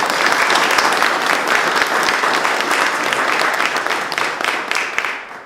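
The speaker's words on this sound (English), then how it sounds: "Let's give them a round of applause, too, for everything." Loud, dense applause from a large school audience at a decision-day ceremony, sustained and gradually tapering toward the end.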